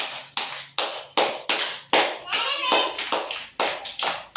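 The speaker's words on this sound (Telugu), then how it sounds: "క్లాప్స్ కొట్టండి" Schoolchildren in a classroom clap their hands together in quick unison bursts, about two to three claps per second, close and sharp, with a brief voice partway through.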